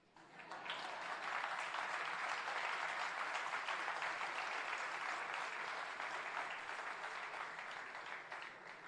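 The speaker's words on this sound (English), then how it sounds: "I would clap for that." A keynote crowd at a Jamaica diaspora conference breaks into loud, sustained applause that swells quickly and holds steady for several seconds, the clapping dense and even with no speech over it.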